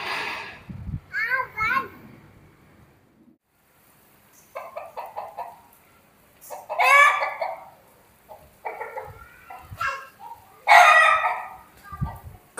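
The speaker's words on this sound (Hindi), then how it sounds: "ऊपर से भी आवाज आ रही है मुर्गी की" Chickens cluck and a rooster crows in loud repeated bursts, spread across a rainy, windy rooftop scene, with a voice heard among the birds.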